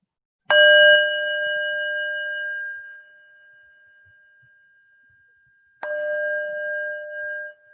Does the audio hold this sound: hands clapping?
no